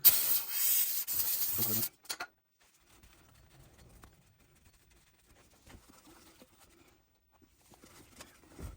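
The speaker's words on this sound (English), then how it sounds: "we'll give it a quick dousing, brake clean" Brake cleaner sprayed onto the hub face of a 2016 Subaru Crosstrek during a brake replacement, a loud steady hiss lasting about two seconds, then a brief burst, followed by quiet handling sounds.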